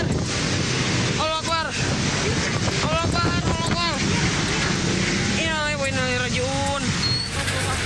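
Strong tornado winds sweep along a street at Jalan A.H. Nasution in Ujung Berung, Bandung, a loud and steady roaring rush that buffets the microphone. Frightened people shout and call out over the din.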